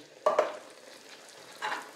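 Vegetables in a pan with 400 ml of coconut milk just added give off a faint sizzle and bubbling, with two brief stirring scrapes near the start and end.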